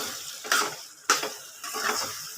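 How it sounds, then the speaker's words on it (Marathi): A spoon stirs pulao in an oiled pan, making three distinct scraping strokes over a soft sizzle, close and fairly quiet, with no talking. "आता मी मस्त लगे छान हलवून घेणार आहे"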